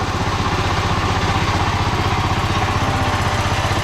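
A tractor engine runs steadily at close range during rice-planting work on farm fields in Konkan, a continuous throbbing, clattering idle with a strong low pulse and no speech.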